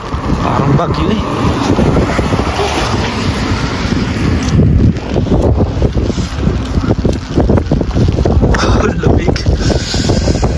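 Gale-like wind blasting across Smoky Lake, Alberta on a cold, rainy day, a loud, continuous rumble with heavy gusts pounding the mic and a voice breaking through now and then.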